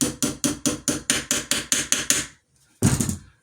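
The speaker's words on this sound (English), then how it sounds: "Most problems with an AK can very easily be fixed by hammering something on it" Ten sharp, evenly spaced hammer blows ring out on an AK rifle part, a Zastava M70 N-PAP, loud and close, followed by a short pause and one heavier clattering strike.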